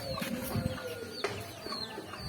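Village chickens clucking along a rural lane near a school, a few short, soft clucks and a brief rising squawk standing out over quiet outdoor background, with faint birdsong in the distance.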